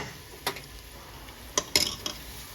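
A spoon scraping the bottom of a pan of gumbo, a few short separate scrapes and clinks, close and fairly quiet over a low background hum.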